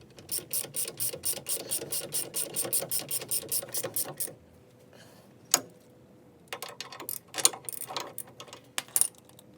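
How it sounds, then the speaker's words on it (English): Ratchet wrench working on wheel studs of a Dodge Challenger with Brembo brakes, a rapid run of about twenty even clicks, a pause, then a few scattered bursts of clicking and clanks, close and without speech. "And take our ratchet."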